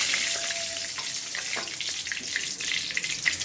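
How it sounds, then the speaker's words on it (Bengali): Cumin seeds and a bay leaf tempering in a generous pool of hot oil, giving a steady, close, crackling sizzle with scattered small pops and no talking. "এবার আমি এখানে জিরে আর একটা তেজপাতা ফোড়ন দিয়ে দিলাম।"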